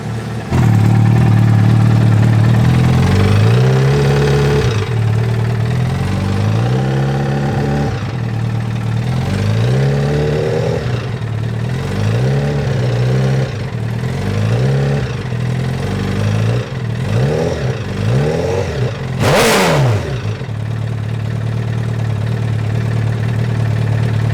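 A Honda N600 microcar fitted with a Honda CBR1000RR superbike engine runs steadily in gear under load, its continuous drone holding with small pitch rises and dips and a brief sharp burst near the end, no voices present.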